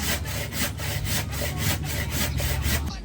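Wood being sawn by hand, with rapid, regular rasping strokes at roughly four per second. The strokes are close and fairly loud and continue steadily until they stop just before the end.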